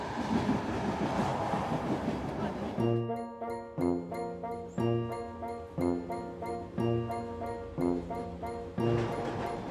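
The Trans-Siberian Express rolls along rails with steady rhythmic clickety-clack from the wheels, loud and close, repeating in regular beats after a rushing start.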